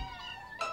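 Cartoon kittens give a brief, high, wavering meow, faint and close, with a second short cry at the end.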